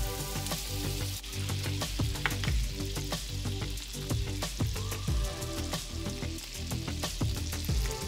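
Butter and minced garlic sizzle and crackle steadily in a cast iron skillet, a continuous close frying hiss with small pops and a few scraping stirs, with no talking.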